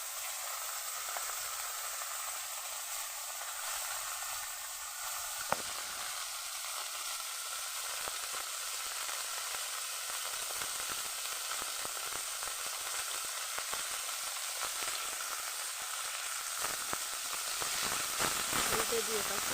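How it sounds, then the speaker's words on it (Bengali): Vegetables frying lightly in a pan give a soft, steady sizzle and hiss that runs continuously at low volume, with occasional small clicks and stirring noises. "এগুলো বেশি লাল করে ভাজবো না, হালকা করেই ভাজবো"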